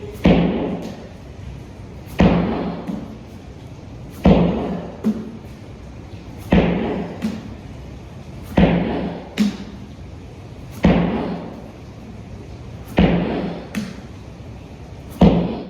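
Repeated heavy slams of an object onto the floor during a workout, about seven loud thuds spaced roughly two seconds apart in a steady rhythm, with no talking.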